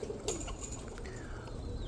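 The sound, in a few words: roller pigeons cooing in loft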